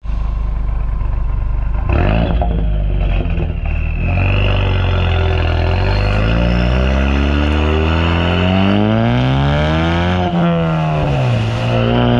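A Ford Mustang EcoBoost exhaust revs repeatedly, its deep growling note climbing and falling in pitch, loud and close, with no voices.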